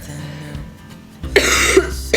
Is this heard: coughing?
yes